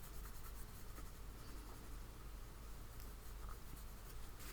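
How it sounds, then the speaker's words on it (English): Colouring pencils scratching and rubbing across paper in a steady, soft, continuous stroke, close and quiet with no talk. "apply the pencils directly to the paper and then activate them."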